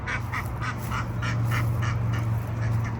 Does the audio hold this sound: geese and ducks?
yes